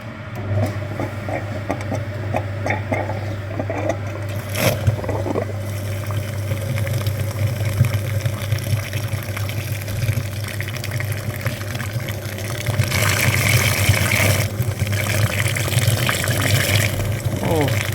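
A cooling-system flushing machine hooked to the front radiator of a Chevrolet Aveo pumps water with a steady low hum and running-water wash, louder in the last few seconds; a brief clatter interrupts early on.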